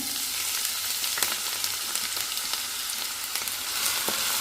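Onions sizzle steadily in hot oil, a dense crackling hiss with scattered sharp pops throughout, close up and with no voices.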